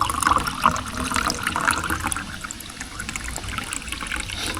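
Water trickles and splashes into powder in a container at a campsite, close and fairly loud, with short bursts of pouring early on that ease into a quieter dribble, no talking.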